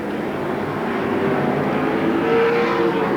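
Pro Stock race cars at Seekonk Speedway roar around the oval in a 1992 feature, a steady, distant engine drone with faint pitch sweeps as cars pass, heard without talk.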